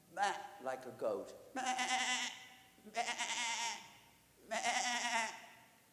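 A group of people, children and adults together, imitate a goat's bleat with wavering, vibrato voices, giving about four drawn-out bleats of roughly a second each with short gaps between.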